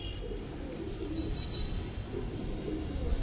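Several pigeons coo in low, overlapping murmurs, close by and steady throughout, with a faint high whine above and no talking.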